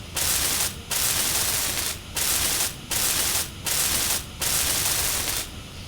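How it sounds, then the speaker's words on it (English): Welding heard up close: loud bursts of harsh crackling hiss, each lasting about one second, broken by short silent gaps in an uneven rhythm, with no talking. "Now lots of welding."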